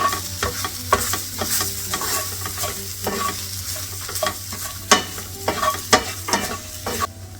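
Hotdogs frying with spices and turmeric in a pan are stirred with repeated sharp utensil scrapes and clacks over a steady sizzle, irregular strokes continuing throughout at close range.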